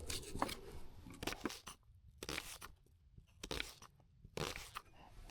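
A whole onion being cut with a blunt knife at a dark woodland campsite, producing five or six slow, crunchy, tearing cuts spaced about a second apart, close and fairly faint, with quiet pauses between strokes.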